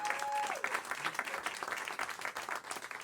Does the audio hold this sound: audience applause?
yes